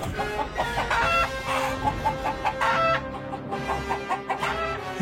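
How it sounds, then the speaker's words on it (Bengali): Three black cartoon chickens in a Bengali horror cartoon, rapid loud clucking and squawking in a busy overlapping burst, close and continuous with no talk. "তিনটে কালো মুরগি বেরিয়ে ছুটল ঘরের ভেতর।"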